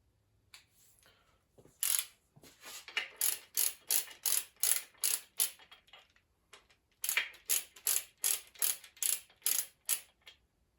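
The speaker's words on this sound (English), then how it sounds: "I'm really gonna just basically torque this up to just a very minimal amount" A torque wrench ratchets while snugging crankshaft bolts during a crankshaft install: two bursts of quick, evenly spaced clicks, close and crisp, separated by a short pause, with no talking.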